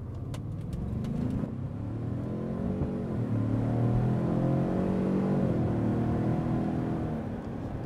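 A 2020 Ford Expedition Max with a 3.5-liter EcoBoost turbocharged V6 accelerates, its engine note rising steadily in pitch and loudness, then easing and climbing again. The sound is sustained and close.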